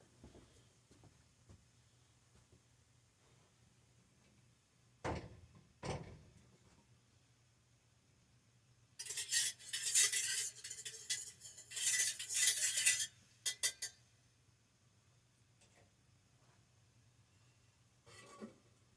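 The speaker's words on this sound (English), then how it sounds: "You want to make sure you do one last good stir." A spoon stirs melted beeswax and oil in a pot for comfrey salve, with scattered clinks early on and then a busy spell of metallic scraping and clatter before it falls quiet again.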